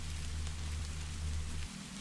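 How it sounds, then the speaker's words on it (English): Steady rain falls as a dense, continuous hiss over a low rumble, even and unbroken, easing slightly near the end with no voices. "listening to the rain"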